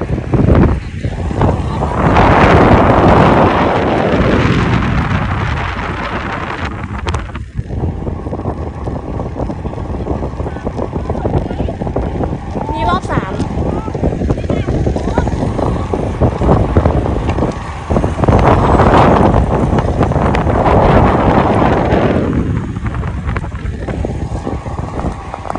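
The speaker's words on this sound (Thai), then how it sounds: "ลมก็แรงอยู่นะเนี่ย" Strong wind roars across an open racetrack during a cycling ride, buffeting the microphone in loud, sustained gusts that swell and ease throughout, with no voices heard.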